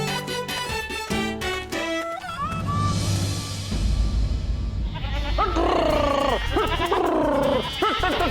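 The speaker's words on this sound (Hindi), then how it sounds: "अरे बकरियों को अंदर ले लेना" Goats bleat repeatedly in a dense, overlapping chorus, loud and near, with wavering calls rising and falling over a busy background of other noise.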